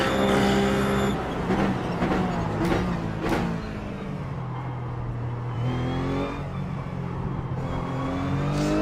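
A Ruf GT3 race car in iRacing running laps at Spa, its engine revving up and down through gear changes with rising and falling whine, loud and steady throughout, no talking.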